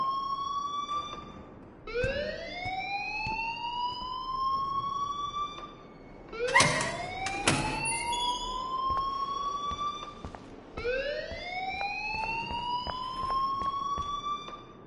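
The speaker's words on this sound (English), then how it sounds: "please turn off that alarm since that's your job" A rising-and-falling electronic alarm wails in a video game, sounding in repeated swooping cycles of a couple of seconds each with short gaps between them, moderately loud and unaccompanied by talk.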